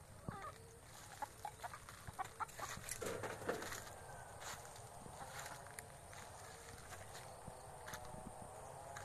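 Laying hens cluck in a rural farmyard, with intermittent soft clucks and calls at close to mid distance and occasional footsteps, fairly quiet and with no speech.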